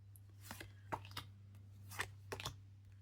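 Oracle cards are flipped over by hand on a table, giving a few soft, separate flicks and slaps over a faint steady hum.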